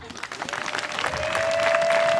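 Applause from a church congregation, steady crowd clapping that swells and holds, with a sustained tone rising beneath it partway through.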